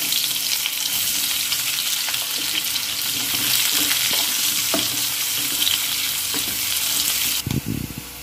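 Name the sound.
onions frying in oil until brown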